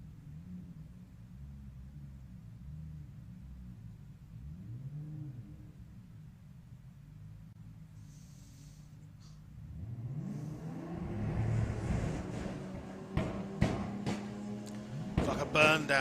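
The El Toro drag car sits on the start line at a Japshow drag racing event, engine burbling in rising and falling revs before a louder, harsher build of revving with sharp bursts near the end.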